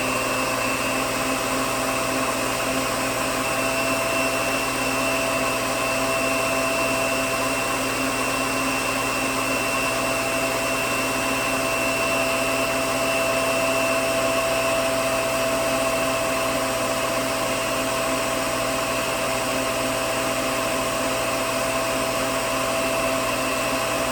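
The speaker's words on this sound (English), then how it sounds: "In a food processor, this takes from 1 to 5 minutes." A food processor runs on medium speed while kneading soft sprouted bread dough, giving a steady, loud motor whine with no breaks across the whole stretch.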